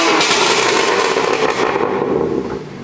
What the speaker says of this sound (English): We'll do revs with valves shut and then open.